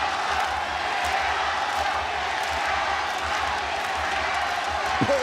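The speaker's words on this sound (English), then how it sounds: "Listen to the Japanese, they're chanting in Tokyo for Senzo Ikeda." A large crowd inside a Tokyo arena, the Ryogoku Kokugikan, chants for a fighter during a ONE Championship bout. It makes a steady, loud roar with a faint rhythmic low pulse throughout.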